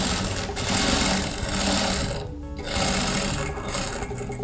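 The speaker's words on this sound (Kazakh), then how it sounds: "Енді осын айландырып, текстеп тігіп шығамыз." A sewing machine stitching pieces of fabric for an embroidered kerchief, a steady loud mechanical whirring with a short pause midway before it resumes.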